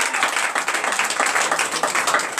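A church congregation at a Sunday service in Benin applauds steadily, a dense, continuous wash of many hands clapping at close range.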